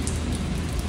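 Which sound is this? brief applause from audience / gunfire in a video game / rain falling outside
rain falling outside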